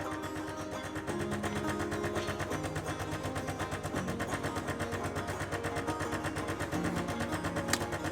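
A De'Longhi La Specialista Arte espresso machine brewing a long black, its steady pump drone and rhythmic buzzing running continuously at moderate, fairly quiet level with no talk over it.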